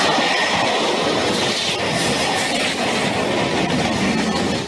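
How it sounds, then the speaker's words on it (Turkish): Passenger train at a level crossing striking a truck, in heavy snow in Utah: a loud, steady rumble of rail noise with clattering wheels runs through the whole stretch, and no voices are heard. "Tren hemzemin geçitte tırı böyle biçti."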